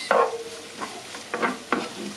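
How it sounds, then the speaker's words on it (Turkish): Carrots, pastirma and hazelnuts sauté on low heat for soup, a soft sizzle broken by four scraping stirs of a utensil across the pan, close up and without talk. "Havuçlar iyice ördüğü için pastırma ve fındığını da ilave ettim. Kısık ateşte bunlar burada sotelenecekler."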